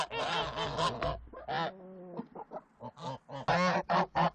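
Geese honk close by in a rapid, noisy run of loud calls, some stretched into longer nasal cries.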